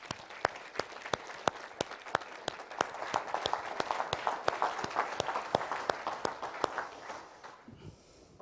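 Audience applause welcoming speaker Nelson Nash to the stage at a real estate event, with steady clapping from a modest crowd and a few loud individual claps standing out, fading at the end.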